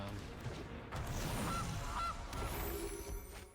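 Goose in the MTG Arena card game giving two short nasal honks in quick succession, faint against a soft game background.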